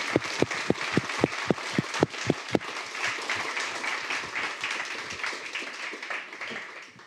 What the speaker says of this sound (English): An applause for the panel.